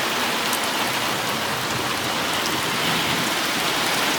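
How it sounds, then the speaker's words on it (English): Steady, dense rain pours down during a thunderstorm at a junkyard, heard from inside a car; the drumming hiss is loud and continuous, with no distinct thunderclap standing out. "Not ideal to be in a junkyard during a thunderstorm"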